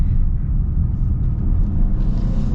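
A 2024 Hyundai Santa Fe with a turbocharged four-cylinder accelerates hard in sport mode, heard from inside as a steady low engine and road rumble, with no one talking.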